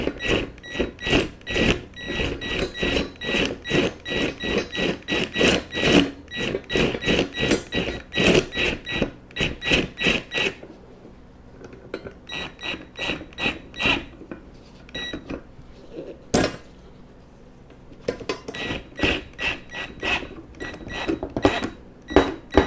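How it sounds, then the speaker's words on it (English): Impact gun running at very slow speed on a C3 Corvette front suspension bolt, loud rapid rattling hammer bursts in repeated runs with short pauses, close up. "my impact gun on very, very slow"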